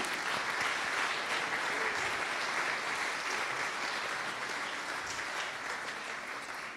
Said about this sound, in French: Je crois qu'on peut vraiment les applaudir.